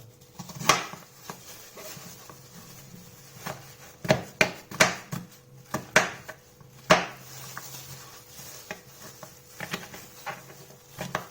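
A knife slices ingredients on a cutting board during Korean cooking prep, producing irregular close taps and cuts with several sharper strokes in a busy middle stretch, then lighter scattered knocks.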